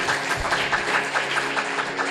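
A church congregation at a sermon claps loudly and steadily together, a thick even wash of applause filling the room, with a low hum beneath it.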